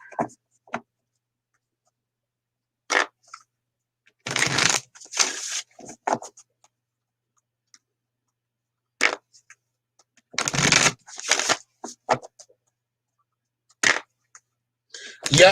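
Tarot cards are shuffled and pulled in short, close bursts of papery riffling and flicking, separated by stretches of silence.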